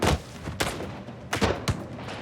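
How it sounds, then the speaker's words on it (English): Musket fire from a battle against British lines, heard as several muffled distant shots, some close together, over a low rumbling background. "In a flurry of musket fire, a shot injures Wolfe"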